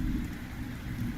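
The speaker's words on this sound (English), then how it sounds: "Are you wanting the rain and thunder sounds, or no sounds" A cozy ambience track plays steady rain with a low, rolling rumble of thunder, a continuous dense wash of sound with no voices.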